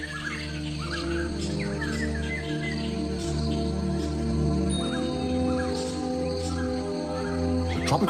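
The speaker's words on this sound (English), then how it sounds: "Tropical rainforests are home to many kinds of colorful birds." Tropical rainforest birds in Thailand call and chirp throughout, with scattered whistles and trills layered over a steady drone of insects, a dense continuous wild chorus at moderate distance.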